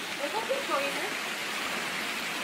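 Rushing river water near the Edessa waterfalls in Greece, a steady broadband roar of fast-moving water close by, with faint voices briefly audible beneath it.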